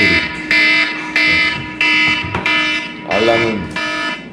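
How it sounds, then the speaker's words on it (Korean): An alarm tone sounds loud and close, repeating in seven even electronic buzzing pulses, with one warbling pulse near the end. "알람은 무조건 이 소리로."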